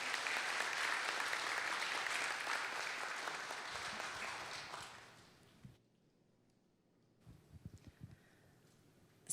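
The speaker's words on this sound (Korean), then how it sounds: "우리 큰 박수로 우리 환영하도록 하겠습니다" A church congregation at a Seattle Sunday service gives a missionary speaker a big round of applause, loud and sustained for about five seconds before fading out, followed by quiet with a few faint knocks and rustles.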